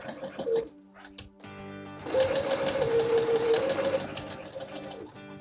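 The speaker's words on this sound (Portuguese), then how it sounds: "à medida que vamos costurando, vamos adaptando o viés à forma da nossa perneira" A sewing machine stitches bias binding onto fabric in a steady whirring run of a few seconds, preceded by short starts and stops at moderate volume.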